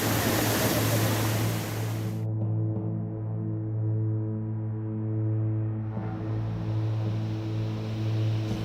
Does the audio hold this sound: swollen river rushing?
yes